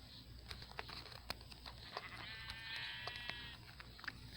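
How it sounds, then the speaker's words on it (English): Sheep bleating in a village island survival video game, a faint, brief wavering bleat rising over a low background hum with scattered soft clicks. "Sheep."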